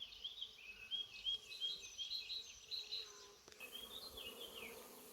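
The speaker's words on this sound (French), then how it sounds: "Je sais pas si vous entendez le bourdonnement, mais ça n'arrête pas." A swarm of honey bees works around a hive, giving a steady, dense buzzing drone that carries on without pause, close and moderately loud, with a brief shift in tone near the end.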